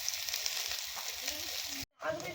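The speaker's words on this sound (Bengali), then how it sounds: "একটু হলদু দিয়ে দিই আলুতে ভাজার সময়" Potatoes with a little turmeric and salt fry in a pan, giving a steady, moderately loud sizzle that cuts out briefly near the end and then returns.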